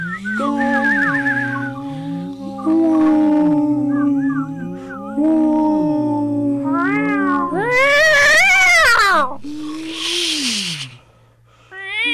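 Several cats meow and yowl in long, loud, rising and falling wails that overlap one another, up close with no talk.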